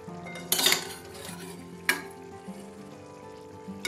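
Pieces of fish go one by one into a pan of simmering sour curry, with sharp clattering of metal against the pan and a soft background sizzle, two distinct clanks standing out.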